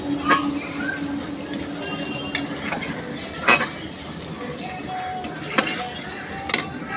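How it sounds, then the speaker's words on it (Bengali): A ground paste of rice and radhuni spice is stirred in a cooking pan for a Bengali shukto, with a spoon scraping and clinking against the metal in scattered, sharp knocks over a soft background hiss. "দিয়ে ভালোভাবে নাড়াচাড়া করে নেব মশলাটা"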